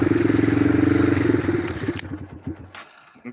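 A four-wheeler engine idles with a steady putter, then stumbles and dies out on its own, leaving a few ticks and faint clicks, loud and close with no talk.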